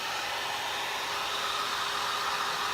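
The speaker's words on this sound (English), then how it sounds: "I'm plugging my blow dryer into the same extension cord as my" A blow dryer plugged into an extension cord runs steadily, a loud continuous whooshing hiss with no change in pitch or level.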